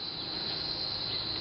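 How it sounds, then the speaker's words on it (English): Steady insect buzzing from bees working pitahaya flowers in summer, a continuous high, even drone close by with no pauses or voices. "As you can see, bees are doing the pollination."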